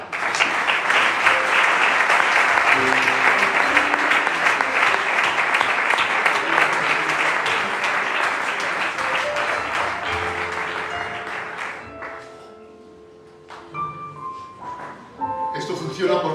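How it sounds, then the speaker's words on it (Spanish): Congregation clapping loudly during a church sermon, a dense sustained burst that gradually thins and fades out, giving way to a few voices and quiet sounds near the end. "¡Aplaude que es para Él!"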